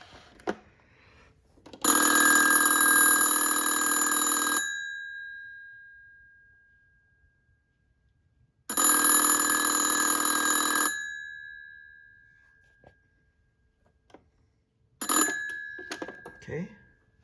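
An old Yugoslav Elektronska Industrija ATA 71s telephone's ringer bell rings in two long metallic bursts with quiet gaps between, followed by a short clattering jingle.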